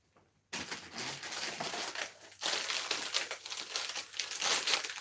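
A plastic bag crinkles and crumples close by in continuous rustling handling, starting abruptly after a moment of silence, with no voices.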